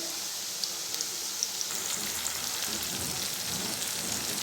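Onions frying steadily in hot oil, a dense continuous sizzle with a faint crackle throughout, close and fairly loud with no talking.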